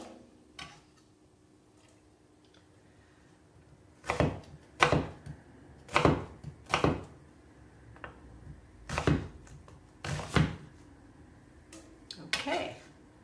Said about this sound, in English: So, dicing them, and you know, that doesn't have to be too small.